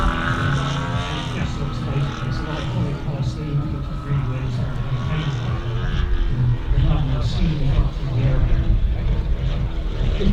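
A model Super Chipmunk aircraft engine drones loudly and steadily while the plane flies aerobatic manoeuvres at a model air show, a continuous buzzing roar with slight swells and a muffled voice underneath.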